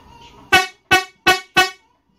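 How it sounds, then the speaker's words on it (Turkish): Four short, loud blasts of a bright, high-tone çat çat car horn, evenly spaced, each ending abruptly, following a faint murmur. "Bu tanıtım videomuzda ufak bir sunumla kornamızın ses tonlarını size dinletmek istiyoruz"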